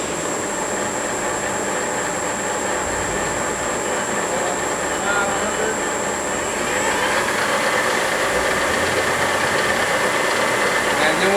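A 2008 South Western Industries TRL1840SX CNC lathe with ProtoTrak SLX control, spindle running in low gear, a steady loud mechanical whir with a high whine that shifts partway through as the speed changes.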